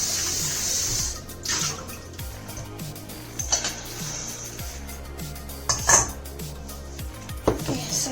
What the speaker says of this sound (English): We'll throw this water.